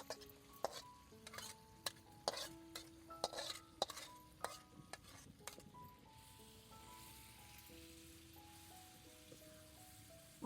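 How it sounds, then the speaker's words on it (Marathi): Pav bhaji vegetables being stirred in a deep pan over a wood-fired stove, with a series of sharp spoon scrapes and knocks in the first half, then a soft, quiet background with faint tonal sounds. "मस्त आता हलवून घेते."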